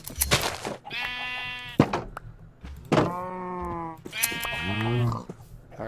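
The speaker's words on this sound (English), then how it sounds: "I'm gonna go shear the sheep." Sheep bleating in the Minecraft Direwolf20 1.12 modpack, several loud close bleats separated by short clicks and thuds of game action, with no talk over them.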